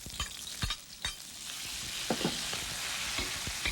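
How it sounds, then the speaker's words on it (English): Beef frying and being stirred in a hot wok with onion and green onion, a steady loud sizzle broken by several sharp scraping stir strokes of the spatula, with no talking. "Then I put all my beef in."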